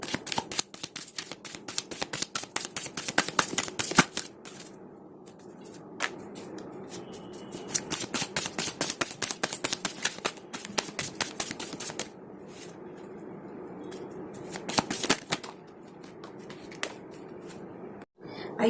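Tarot cards are shuffled up close in quick crisp riffling bursts, repeated several times with brief pauses, and someone speaks softly at moments.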